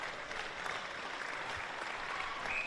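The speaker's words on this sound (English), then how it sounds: "And we'll clap her off here." A crowd applauds steadily as an injured women's player limps off the field during a Sunday match, sounding as a dense, even wash of clapping throughout.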